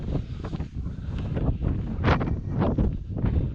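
Strong wind gusting across a breezy hilltop above a valley near Cwmorthin Quarry, a continuous loud roar buffeting the microphone with rising surges and no voices.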